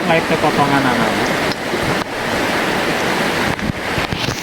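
Steady rushing water with a broad, noisy wash from a river flowing close by at the Cianjur border in Indonesia, with some wind buffeting the microphone.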